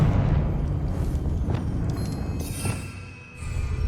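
Confringo fire spell blasting in Hogwarts Legacy, a deep rumbling explosion with a booming low roar that swells, dips briefly and surges again, loud and close.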